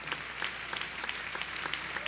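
Applause from a church congregation during a sermon, moderate and steady for a couple of seconds with scattered distinct claps, somewhat distant.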